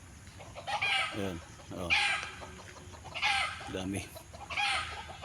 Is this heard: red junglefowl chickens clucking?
yes